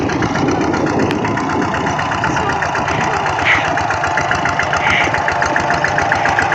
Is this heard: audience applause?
no